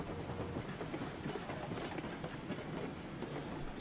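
A steam train in the railroad game RailRoads Online rolls along, giving a steady, loud rumble with an even clickety-clack of wheels on track and no voices.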